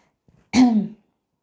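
A single short, close throat clearing from a scratchy throat, abrupt and rough, heard alone against silence.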